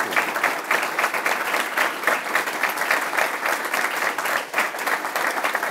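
An audience applauds steadily to welcome Governor Huntsman at a jobs plan event, dense even clapping from a large crowd that holds for several seconds and fades at the very end.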